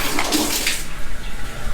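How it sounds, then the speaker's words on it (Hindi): A hotel bathroom toilet flushes with a loud rush of water that fades into a softer, steady trickle, with no talking. "तो यहाँ पर अच्छे से पानी जा रहा है।"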